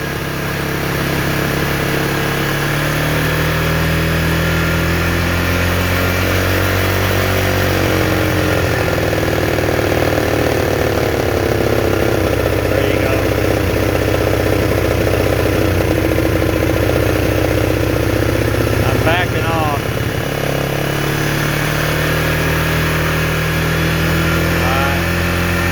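A Polaris Trail Boss 325 ATV with a carburetor problem runs steadily near, its engine droning and rising and falling as the throttle is pushed higher toward full, with no talk.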